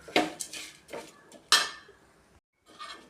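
A metal spoon stirs roasting grated coconut and chilli powder in a pan, making a series of bright scraping clanks and clinks against the metal, with a brief pause before a final scrape.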